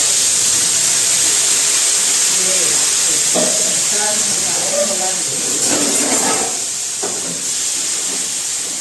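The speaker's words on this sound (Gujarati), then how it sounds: "તો ચાલો હવે આપણે શાકનો વઘાર કરી લઈશું" Asafoetida hits hot oil for dum aloo in a home kitchen, giving a loud, steady sizzling hiss that fills the whole stretch as someone talks over it.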